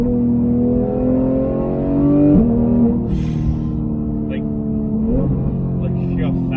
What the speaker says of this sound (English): Like you hear how fast that thing downshifts, and then you go to the upshifts.